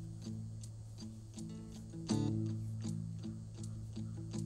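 Acoustic guitar part isolated from a country rock mix, strummed chords with steady rhythmic attacks and a brighter accented strum near the middle, played alone at moderate level.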